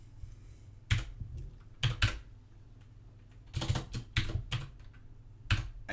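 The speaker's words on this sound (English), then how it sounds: "I'm going to type def prompt." Bursts of computer keyboard typing come in quick clustered keystroke runs separated by short pauses, close and crisp, while code is entered during a live programming session.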